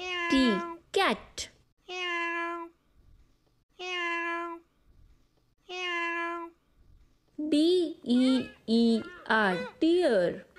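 A cat meows repeatedly, drawn-out cries spaced apart, then a quicker run of shorter, excited meows near the end.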